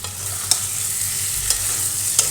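Curry sautéing in oil hisses steadily while a spoon stirs it, making three distinct scraping strokes at regular intervals close by, without speech.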